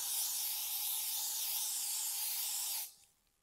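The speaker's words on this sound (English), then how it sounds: "I'm going to spray the hair" A single steady hiss of hairspray sprayed onto a section of hair for about three seconds, close and even, then cut off abruptly.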